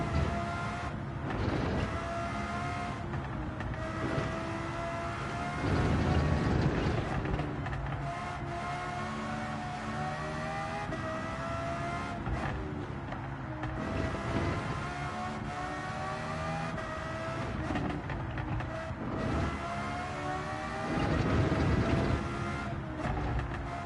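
A high-revving car engine in Gran Turismo 7 roars steadily, climbing in pitch through repeated gear shifts and occasionally surging louder, with no talking.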